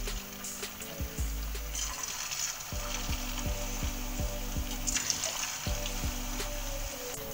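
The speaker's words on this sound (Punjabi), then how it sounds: "ਲਾਈਟ ਬਰਾਊਨ ਹੋਣ ਤੱਕ ਆਪਾਂ ਇਹਨੂੰ ਫਰਾਈ ਕਰਾਂਗੇ" Mashed potato fingers fry in medium-hot mustard oil, a steady, fairly quiet sizzle and bubbling with a few soft knocks and clinks of utensils, no talking.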